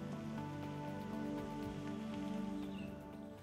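Monsoon rain falls steadily and evenly in a continuous hiss of drops, with a faint steady hum underneath and no voices.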